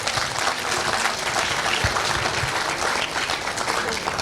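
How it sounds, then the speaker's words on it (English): An audience at a school's annual gathering applauds a performance with steady, full clapping that holds at an even volume throughout, with no voices standing out. "Let's give them all our love through our applause."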